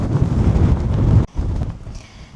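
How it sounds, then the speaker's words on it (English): Strong wind on the Kinder Scout hilltop buffets the microphone in a loud, rumbling roar, drops abruptly for a moment, then gusts again more softly, with no voices. "The wind is very strong"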